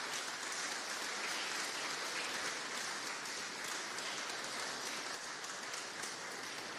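Sustained audience applause from a large crowd at a live talk on reading the Bible, a dense, even wash of clapping that holds steady and loud throughout with no voices over it.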